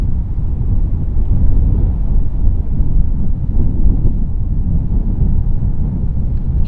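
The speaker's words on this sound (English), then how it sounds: "This seems to be a very windy location." Steady wind buffets the microphone with a continuous low rumble in a cemetery in Newquay, unbroken and fairly loud, with no other sounds.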